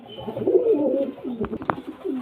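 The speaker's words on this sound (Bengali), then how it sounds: "এখানে সব রকমের পায়রা আছে" Pigeons of many breeds, including breeding pairs, coo in a loft, their low throaty calls rolling close and continuous with a few sharp clicks near the end.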